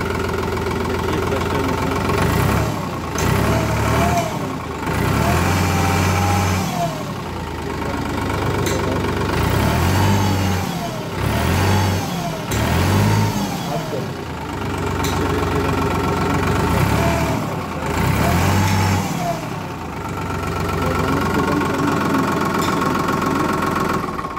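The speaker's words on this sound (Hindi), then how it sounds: "ट्रैक्टर में अब हम इसको स्टार्ट करके दिखाते हैं" A New Holland 3630 TX Super Plus tractor's diesel engine starts and chugs and rumbles at a steady idle, with occasional revving surges and clattering knocks, heard up close with faint talk in the background.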